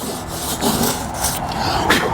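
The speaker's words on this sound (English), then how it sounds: "take this bristle brush and hit it with that" Bristle brush scrubbing along wooden trim during prep for painting, a rough continuous rubbing with short back-and-forth strokes, close and fairly loud.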